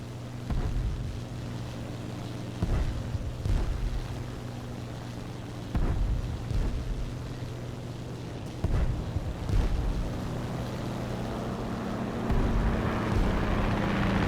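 A BF 109 fighter plane in War Thunder drones with a steady, loud piston-engine hum that holds throughout, punctuated by several brief bursts of cannon or machine-gun fire at irregular intervals.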